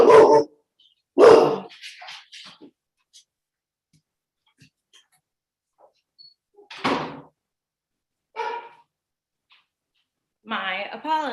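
A dog barks in several sharp, loud bursts during an online public hearing, spaced apart by near silence, with a person speaking briefly near the end.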